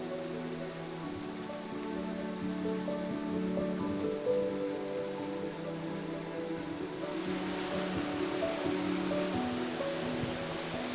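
Steady, continuous rush of falling water from the Baş Daşağıl waterfall in Oğuz, a dense broadband roar that stays close and even throughout with no voices over it.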